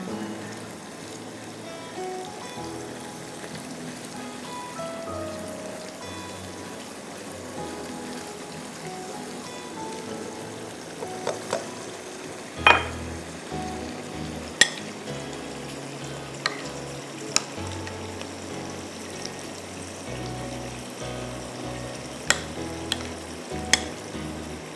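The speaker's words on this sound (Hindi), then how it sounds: "इसको आप अच्छी तरह भूनिए।" Chopped onions frying in a pan for a chicken curry, a steady low sizzle and crackle with occasional sharp pops and stirring clinks, fairly faint, no voices.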